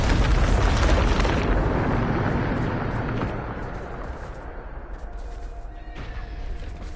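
A Bombarda exploding spell goes off in Hogwarts Legacy, a loud, dense blast that roars for about three seconds and then trails into a long rumbling tail.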